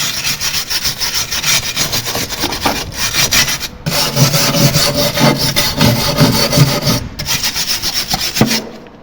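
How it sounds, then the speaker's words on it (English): Harsh rhythmic scrubbing of a wire brush on a rusty antique cast iron skylight, loud and close, with repeated back-and-forth strokes and a couple of brief pauses. "and then you're onto your wire brush"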